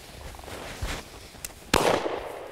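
Shotgun fired during a quail hunt on a North Carolina farm, with one sharp loud blast late in the clip after a few softer thumps and rustles outdoors.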